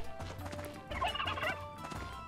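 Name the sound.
chicken or turkey in Life is Feudal video game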